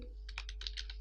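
Quick run of about eight soft computer keyboard keystrokes as a database command is typed, faint and close, over a low steady background hum.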